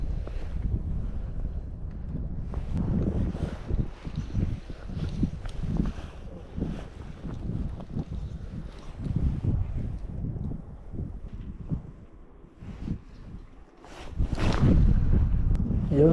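Gusty wind buffets the microphone beside a mountain lake in the Pyrenees, a steady low rumble with irregular bursts that swell louder near the end, with no voices.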